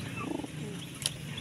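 A large bird in a pigeon loft gives low, soft coos over a steady hum of background noise, with a brief sharper chirp near the end.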